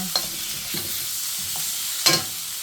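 Chicken breast, pak choy and sliced beans are stir-fried in a pan with a soft steady sizzle, broken by a few distinct scraping stirs of a spatula, the last one loudest; no voices.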